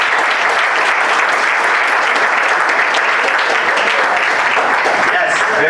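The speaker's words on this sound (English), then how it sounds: "So all of you who have been participating all this week, please clap for yourselves." Debate championship participants and audience clap for themselves in a hall, a dense, steady applause that holds loud and even throughout without fading.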